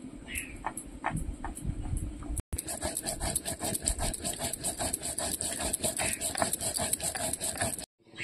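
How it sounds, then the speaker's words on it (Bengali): Cumin seeds ground by hand on a grinding stone, a busy rhythmic scraping and rubbing with repeated gritty strokes, steady and close, pausing briefly twice. "তরকারিটা ফুটতে ফুটতে আমি জিরে বেটে নিচ্ছি।"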